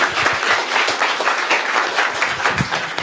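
An audience at a startup pitch event applauds in a dense, continuous wash of clapping that holds steady for a few seconds, with no voices over it.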